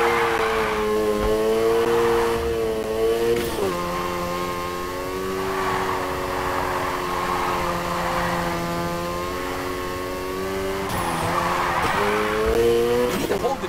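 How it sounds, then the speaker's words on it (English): A car drifts in the racing game Need for Speed Heat, its revving engine holding a sustained tone under long, wavering tire squeals that swell and fade through the slide. "Keep that drift going."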